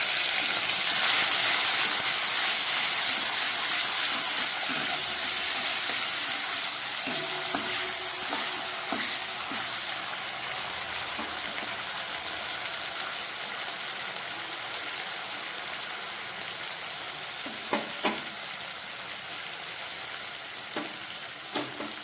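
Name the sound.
ginger and green chili paste frying with spices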